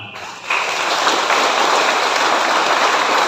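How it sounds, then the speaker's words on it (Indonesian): Audience applause at a Christmas Eve church service swells suddenly into a steady, dense wash of clapping that carries on evenly throughout. "kita berikan semangat dan spirit dengan memberikan tepuk tangan"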